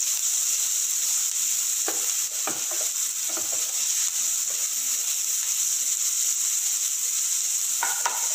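Garlic frying and sizzling in a pan while being stirred for homemade pizza sauce, a steady close hiss with scattered scraping clicks of the stirring utensil and no talking.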